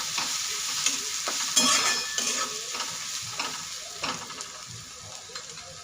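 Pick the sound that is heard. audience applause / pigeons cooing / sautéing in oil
sautéing in oil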